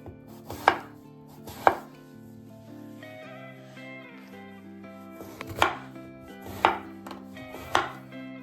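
A knife chops through aubergine into thin slices on a board, five sharp close cuts in two clusters with a pause between, over soft background music.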